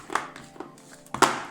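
A fork mashes semi-frozen vegan salted caramel peanut butter ice cream to break up ice crystals, giving a few close, soft squelching and scraping strokes, with one louder crunchy push near the end.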